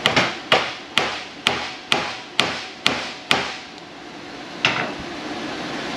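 A hammer strikes a tight suspension part on a Ford F250 6.7 truck: eight quick, evenly spaced, sharp metallic blows, then a pause and one final tap, close and loud.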